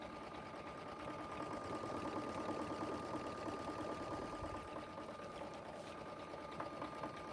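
A sewing machine stitches a zippered bag with a steady, faint, even whirring hum that runs without pause.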